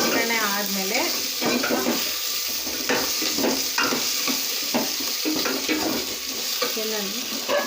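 Mustard seeds and spices crackle and sizzle in hot oil for a South Indian tempering for drumstick sambar, a steady close frying hiss with stirring scrapes of a spoon in the pan, while someone speaks over it.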